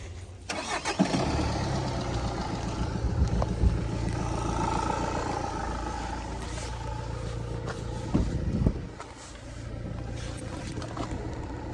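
A used car with around 11,400 dollars asking price at a car market cranks and fires up near the start, then settles into a steady idle that runs throughout, with a brief bump in level later on.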